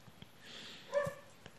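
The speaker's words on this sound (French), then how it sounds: "Le chien qui aboie maintenant." A dog at home barks briefly in the distance in the early morning, faint against quiet room tone.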